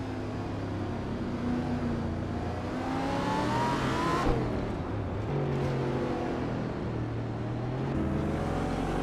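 Several racing-game cars, including a 2017 Porsche 911 GT2 RS, launch at the race start at Croft circuit, engines revving hard and rising in pitch together, a loud continuous roar that swells and shifts as gears change.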